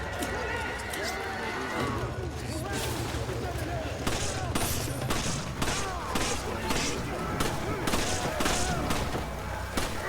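Gunfire in the video game Resident Evil 5, scattered shots and thuds amid busy game noise and scuffling, with voices heard throughout.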